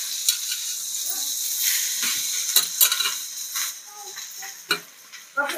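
Chopped safflower greens (kardai) being stirred in a pan with green chilli and coriander powder, giving a steady sizzle with scraping spatula strokes and a few clinks of utensil on metal.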